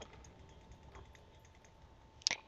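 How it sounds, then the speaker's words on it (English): Faint, quick computer keyboard and mouse clicks during a survival-games computer match, scattered and light, with one sharper click near the end and no talking. "can you guys hear my clicking?"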